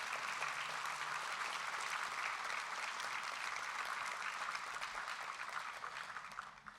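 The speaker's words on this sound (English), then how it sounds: "How about one more round of applause for our presenters that were here?" Sustained applause from an audience at a senior awards ceremony, honoring the award presenters; steady, dense clapping that fills the room and tapers slightly near the end, with no talking.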